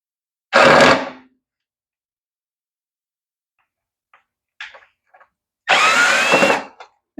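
Power tool backing out cover bolts on a Toro mower in short bursts: a loud whirring run near the start, a few faint clicks in the middle, then a second longer burst near the end, close by with quiet gaps between.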